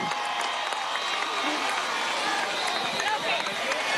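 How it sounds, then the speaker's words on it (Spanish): A crowd at a political swearing-in ceremony in Apure applauds, a continuous dense wash of clapping with faint cheers, steady and moderately loud throughout. "Un aplauso para la compañera Ariagni"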